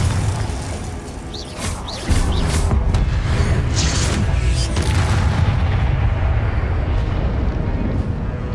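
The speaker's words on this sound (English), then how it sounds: "Glacius! Confringo!" Glacius and Confringo spells fired in Hogwarts Legacy, with a heavy booming blast near the two-second mark followed by sustained loud rumbling and crackle, a voice calling out over the effects.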